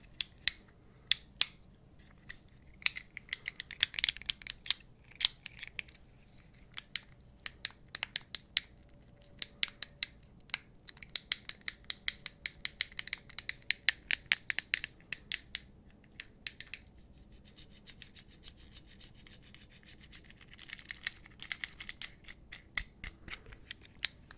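Repeated sharp clicks from the buttons, switches and dials of a handheld Fidget Cube, worked around all six sides, coming in irregular bursts of close, small plastic snaps with brief pauses between them.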